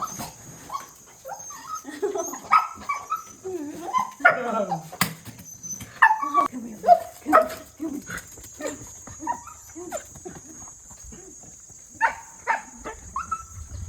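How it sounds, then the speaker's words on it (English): An overjoyed dog greets someone with a long stretch of excited whimpers, yips and occasional barks, close and loud, rising and falling in bursts outdoors. "Oh, Yadong, her dog, was so overjoyed when he saw her coming"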